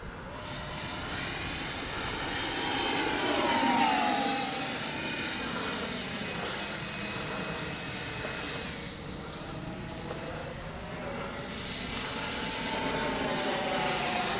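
A Freewing A-4 Skyhawk 80mm RC electric ducted-fan jet flies past, its high whine swelling and fading with Doppler shifts as it passes, loud and steady over outdoor wind noise.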